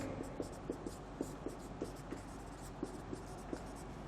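Chalk taps and scrapes against a classroom board as a teacher writes out a definition, a steady series of short, evenly spaced strokes over low room hum, with no talk.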